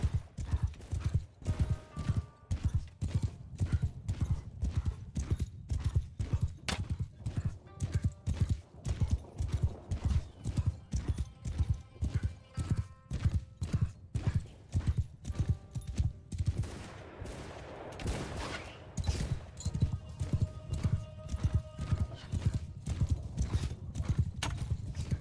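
Rapid clip-clop of horses galloping in the Bannerlord Shokuho mod, a steady drumming hoofbeat rhythm with occasional whinnies and a brief burst of battle noise, close and loud throughout.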